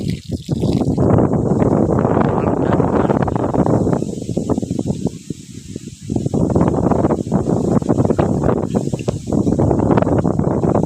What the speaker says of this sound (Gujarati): ભારી પવન આવે